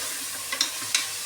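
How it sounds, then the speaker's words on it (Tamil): Tomatoes sautéed in a pan with green chillies for chicken biryani give a loud, continuous sizzle, with two or three quick scraping stirs of a spoon cutting through it. "கொஞ்சமாக தக்காளி நல்லா வதக்கிக்கலாம்."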